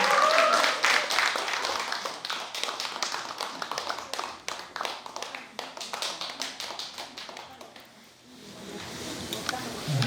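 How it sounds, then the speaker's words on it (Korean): An audience at a Buddhist book-launch dharma ceremony applauds a monk's arrival with rapid, close claps that gradually thin out and dip near the end before a few claps resume. "여러분 큰 박수로 스님을 맞아주시기 바랍니다"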